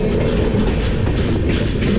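Express train pulling into Kota Junction railway station, a steady loud rumble of rolling carriages with rail clatter throughout, close and continuous with no talk.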